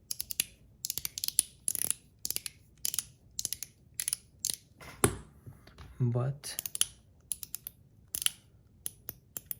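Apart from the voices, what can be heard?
Zirc One Pal fidget toy clicking as it is handled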